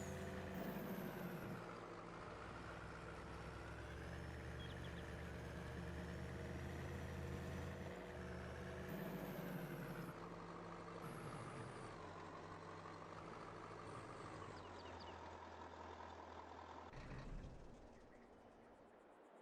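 A battered truck's engine runs steadily in Farming Simulator 22, a loud continuous drone with low rumbling harmonics and slight revving shifts, then drops off near the end.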